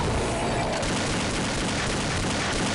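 Rapid, dense gunfire from a powerful weapon in Counter Strike Xtreme zombie mode on de_dust2, loud and continuous for a few seconds with no pauses.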